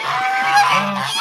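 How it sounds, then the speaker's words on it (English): Geese honk loudly and close by, a continuous burst of overlapping nasal calls with no talking. "Flash, don't smooch the geese"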